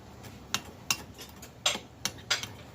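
A spoon stirs a summertime dessert mixture in a bowl, giving about half a dozen sharp, light clinks at uneven intervals over a quiet background.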